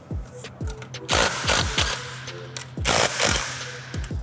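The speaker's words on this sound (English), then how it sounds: "Loosen up the 7 bolts on the back" A 9/16 socket wrench loosening the bolts on the back plate of a board and batten shear die, with rapid ratcheting clicks in several quick bursts, close and fairly loud.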